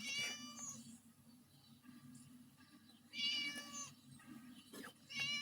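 A cat meows repeatedly in drawn-out, wavering cries, fairly close, with brief pauses between calls over a low background hum.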